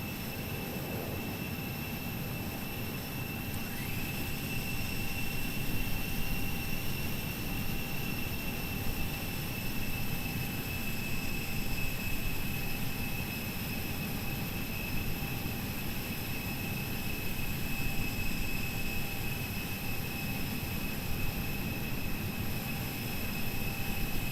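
Simulated Airbus A320 air conditioning pack noise in a flight simulator, a steady broadband rush of airflow with faint tonal whines above it. It holds at a constant moderate level throughout, with no voices.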